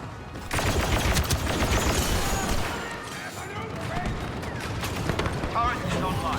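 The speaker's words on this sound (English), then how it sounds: "Expect heavy fire." Dense, rapid blaster and gunfire fills a Star Wars Battlefront 2 battle on Tatooine, with continuous bursts and booms at close range while game voices speak over the fighting.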